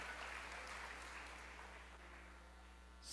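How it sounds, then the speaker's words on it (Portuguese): A church congregation claps together, a soft, somewhat distant, continuous patter of many hands over a steady low electrical hum, fading slightly toward the end. "Você pode aplaudir o nome de Jesus?"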